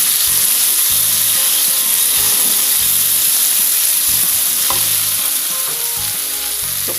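Onion, red chilies, hot chilies and tomato frying in a pan, a steady bright sizzle throughout with occasional stirring scrapes and clinks, close and loud, no talking.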